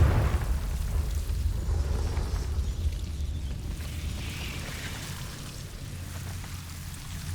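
Confringo fire spell blast in the video game Hogwarts Legacy, a heavy booming burst at the start that trails off into a long, rushing, crackling rumble.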